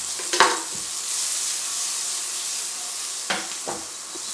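Onions frying in a pan, a steady broadband sizzle running throughout with a few brief stirring or scraping clatters near the start and end, close and moderately loud with no talk.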